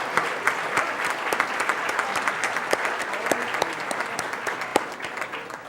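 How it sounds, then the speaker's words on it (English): Standing Rotary Club of Tulsa members and guests clap at a luncheon meeting, a dense, lively patter of many hands with sharp individual claps poking out, steady and fairly close throughout. "Will all Rotarians and their guests please stand, and we'll clap for you"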